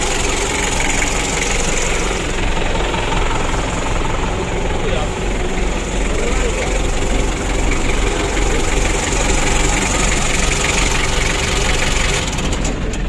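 A rebuilt 2017 Mitsubishi L300 diesel engine runs at a steady loud idle with a rough, knocking throb throughout, while a person talks over it.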